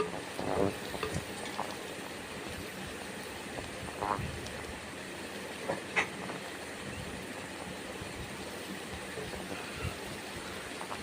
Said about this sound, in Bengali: কড়াইয়ের ভেতরে তারপর নেড়ে ছেড়ে ভেজে নিতে হবে ডিম উচ্ছে সব কিছু একসঙ্গে ভেজে নিতে হবে